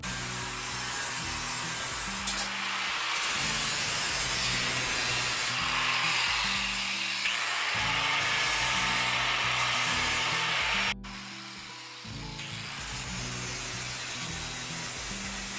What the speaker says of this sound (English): Now we're just cleaning up all the welds.